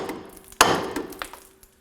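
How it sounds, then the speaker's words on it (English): A hammer strikes a steering knuckle on a 2008-2011 Ford Focus to pop the tie rod end loose: one loud, sharp metallic clank near the middle, then a few fainter knocks as it rings down. "use a hammer and you want to strike the knuckle itself here"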